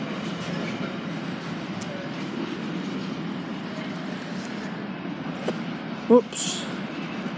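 A Class 158 diesel multiple unit arrives at Manchester Oxford Road station with a low, steady rumble and faint rail noise, a brief clank near the end, and a voice speaking briefly over it.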